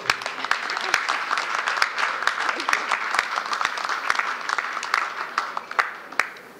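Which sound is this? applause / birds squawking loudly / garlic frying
applause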